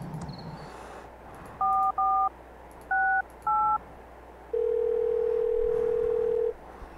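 A telephone is dialed in the video game Thimbleweed Park: four short, clean keypad tones in two pairs, then one long steady tone lasting about two seconds, over quiet background.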